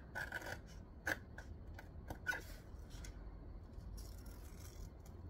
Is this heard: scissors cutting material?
yes